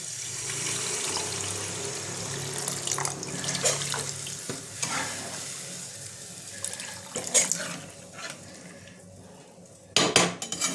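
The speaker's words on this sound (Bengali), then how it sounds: "এবার আমি পরিমাণ মতন জল দিয়ে দিলাম" Water runs and splashes into a pot of spiced potato curry, a steady wash of pouring with occasional clinks of utensils and a louder clatter near the end; no talking.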